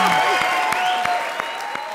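A studio audience at a comedy show claps in a short, dense burst of applause with sharp individual hand claps, close and loud.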